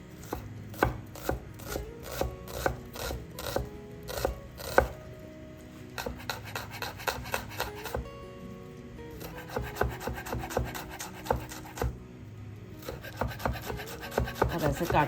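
Knife finely chopping onion on a wooden board, a rapid run of close, crisp chops in quick bursts with brief pauses between, for a home cooking session.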